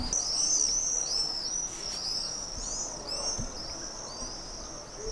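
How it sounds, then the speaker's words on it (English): Swallows call at night outdoors near an apartment building, a busy stream of high, thin chirps and twitters that keeps going throughout, fairly close and loud against a low background hum. "And these birds called Schwalben, they are going so crazy."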